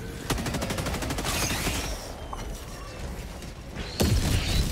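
Air support strafing run in Helldivers 2, a rapid rattling burst of automatic gunfire at the start, then rumbling impacts, and a sharp blast near the end.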